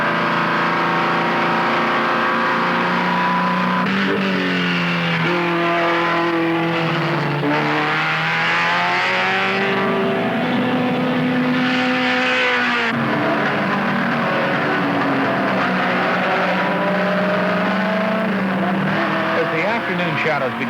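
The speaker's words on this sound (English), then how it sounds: "these racing sedans are relatively stock representatives of the new compact cars" 1974 IMSA Radial Challenge racing sedans, relatively stock compact cars, howl past at speed with engine pitch rising and falling over several passes, loud and continuous under a narrator's voice.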